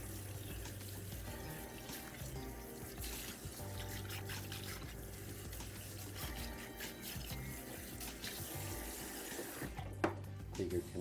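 Tap water runs steadily into a sink while hair is rinsed during hair system maintenance, a continuous mid-level wash of trickling water heard alone throughout.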